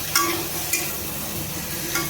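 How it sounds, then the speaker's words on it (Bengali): Pumpkin and potato pieces sautéing in a ginger spice paste for a prawn curry, a steady close sizzle with three brief spatula scrapes spaced across a couple of seconds, no talk. "আর সেটা দিয়েও আমি ভালোভাবে একদম কষিয়ে নেব কুমড়ো আর আলুটা"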